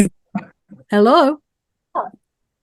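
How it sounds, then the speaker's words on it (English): A puppy caught in a cord gives a short, high-pitched whine between a few brief soft yips, with silence around each sound. "puppy just got caught in the cord"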